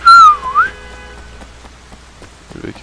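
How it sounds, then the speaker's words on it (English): A person whistles loudly for a taxi in the Sleeping Dogs video game, one sharp rising-and-falling whistle at the start, followed by quiet game ambience and a faint rustle. "Can I whistle?"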